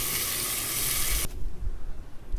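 Thick cut bacon and sausage frying in a Dutch oven, giving a loud, steady sizzle that cuts off abruptly partway through, leaving a few low knocks and faint rumbling.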